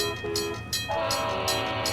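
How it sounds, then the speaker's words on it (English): CSX coal train in the Trainz railway simulator rolling off the Conway branch, a steady loud rumble of railcars with clickety-clack rhythm and sustained horn blasts, no voices. "the last CSX coal train is seen coming off the Conway branch"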